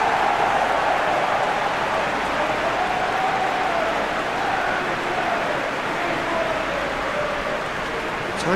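A stadium crowd in the eFootball PES video game applauds steadily through the whole stretch, a dense, loud, even wash of clapping with no breaks and no talk over it.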